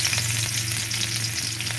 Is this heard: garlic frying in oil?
yes